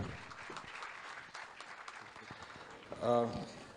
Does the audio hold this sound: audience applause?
yes